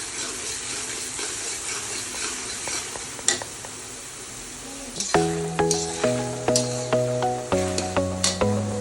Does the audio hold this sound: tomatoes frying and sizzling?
yes